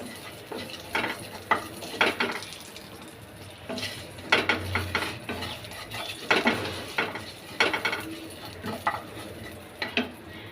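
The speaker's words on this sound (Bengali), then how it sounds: "আমি ফোড়নটা পুরোটাই ঘি দিয়েই করছি" Soft sizzling of cumin tempering in ghee under repeated stirring and scraping strokes, with intermittent clinks of a spoon against metal.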